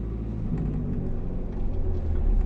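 A car pulls away from a stop during a driving lesson with a low, steady engine rumble that rises slightly in loudness as it moves off, with no voices.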